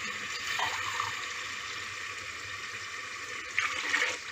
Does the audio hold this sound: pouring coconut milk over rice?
yes